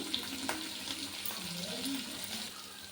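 Garlic, dried red chillies and curry leaves crackle in hot oil for a tempering, a close, continuous sizzle with a few sharper pops and light stirring scrapes.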